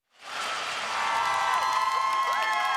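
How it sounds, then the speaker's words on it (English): A large stadium crowd at a CFL football game between the Winnipeg Blue Bombers and Saskatchewan Roughriders at Mosaic Stadium cheers loudly and steadily, with whoops and shouts rising over a sustained roar. "Great crowd as always in the Queen City."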